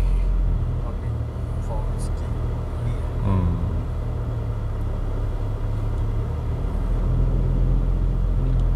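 A car drives through slow Thursday traffic in Bahrain, with a steady low engine rumble and road noise continuing evenly throughout and brief faint voices near the start.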